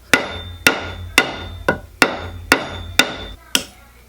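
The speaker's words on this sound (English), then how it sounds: "Maybe my fretting hammer is too wide of a curve." Eight sharp, evenly paced fretting hammer taps drive a fret into the wood of a cigar box guitar neck, each strike crisp and close with a short decay, with no voices.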